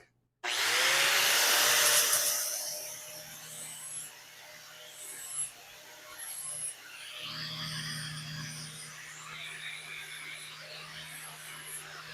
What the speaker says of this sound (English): We're just going to clean up the cut with the flap disc.